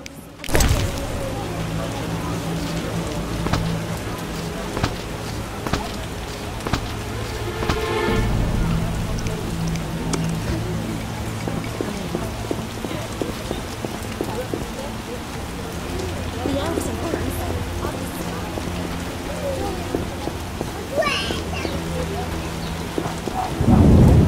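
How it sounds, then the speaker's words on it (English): Heavy rain pours steadily in The Witcher video game, with rolling thunder rumbling through, a constant loud wash of downpour under game ambience and occasional voices. "What a downpour."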